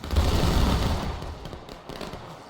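Rifle volley fire in War of Rights, a Civil War line-battle game, as ranked soldiers discharge together in a dense ragged crackle that fades out over a couple of seconds, fairly close and without talk.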